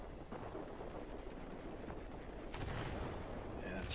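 Cannons on the Chance Vought XF5U Pancake heavy fighter fire in World of Warplanes, a faint, continuous rumble of rapid gunfire in short bursts with no talking.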